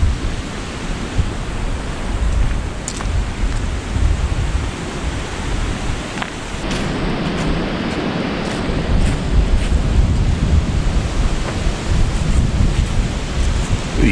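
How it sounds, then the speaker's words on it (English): Strong outdoor wind buffets a GoPro fitted with a wind muffler in autumn at Blue Mounds State Park, Minnesota, a continuous rushing roar with gusty swells and faint crackles, no speech. "It is windy."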